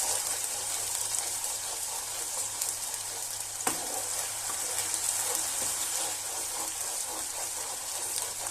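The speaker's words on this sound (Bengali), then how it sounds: "মশলাটাকে ভালো করে কষিয়ে নিচ্ছি।" Spice masala fries in a pan for a vegetarian cauliflower dalna, a steady soft sizzle with occasional stirring scrapes and one sharp clack, heard alone without voices.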